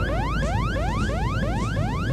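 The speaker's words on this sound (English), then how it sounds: "Dad, that alarm again." A rising, whooping electronic alarm repeats rapidly over a constant low engine drone, loud and unbroken.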